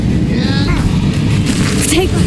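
Booming blasts from spells cast in Hogwarts Legacy rumble heavily over low, continuous explosive noise, with a player shouting spell names over the combat throughout.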